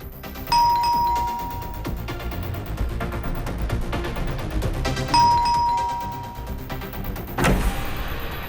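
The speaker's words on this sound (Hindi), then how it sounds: "कितना घंटी बजाते हो?" An electronic doorbell chimes twice with a two-tone ding-dong, a few seconds apart, over low background noise with a thump near the end; no talking.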